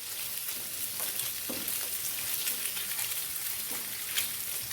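Potato and egg mezhukkupuratti fries in a pan with a steady, crackling sizzle like light rain. A spatula gives soft, occasional scrapes as it turns the mixture, close and moderately quiet, with no talking.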